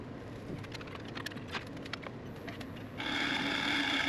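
A skew chisel takes a sharp cut into spinning wood on a lathe, red ironbark and sheoak, giving a steady scraping hiss with a few brief ticks, then a louder, brighter continuous shaving rasp in the final second.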